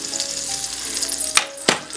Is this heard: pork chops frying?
yes